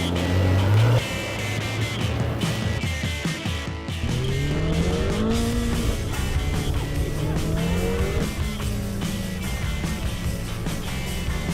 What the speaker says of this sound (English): hop right in and go for a great drive